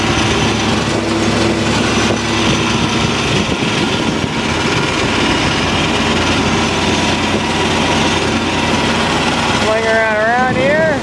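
A hay-raking tractor runs steadily at half to three-quarters throttle, a continuous loud engine drone with a talking voice over it and a rising mechanical whine near the end.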